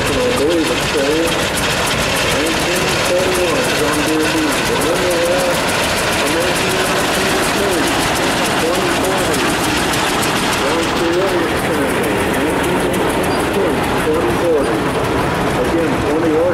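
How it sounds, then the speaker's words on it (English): A 1941 John Deere D tractor engine runs steadily through a tractor parade at a steam and gas show, its continuous loud chugging rumble heard under a narrator's voice throughout. "And then we have the 1941 John Deere D."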